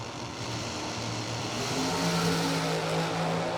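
Old school Horton dragster on a drag racing run, a continuous loud engine roar heard from a distance that rises slightly in pitch over a few seconds.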